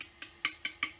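A leaf blower muffler on a 65cc backpack blower is tapped five times in a quick, even rhythm, each knock a faint, hollow metallic tick with nothing else heard.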